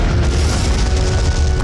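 Cannons fire in a historical drama battle scene, producing a loud, dense, sustained booming roar with heavy low rumble throughout the brief moment, with no speech over it.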